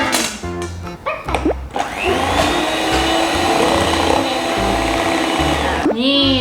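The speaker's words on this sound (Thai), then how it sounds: "เดี๋ยวแม่ปั่นให้มันละเอียด" A kitchen blender purees bananas for a banana cake, its steady motor whir running loud and continuous for several seconds after a few short pulses, with brief voices at the start and at the end.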